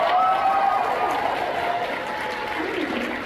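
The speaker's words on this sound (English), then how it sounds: "Let's give a round of applause to Heather." Audience applause at a Megacon 2025 convention panel, a steady wash of clapping and crowd noise with background voices and talk mixed in throughout.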